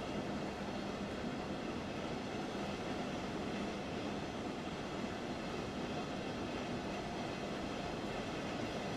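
Passenger train rolling along in Train Sim World 3 on an Intercity run toward Bochum, a steady, dense rumble of wheels and carriage noise lasting throughout, with no talking.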